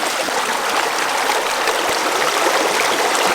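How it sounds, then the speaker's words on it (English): Creek water flows steadily and loudly close by, a continuous rushing, trickling stream with no other sounds over it. "This morning Mick and I have come to a brand new creek"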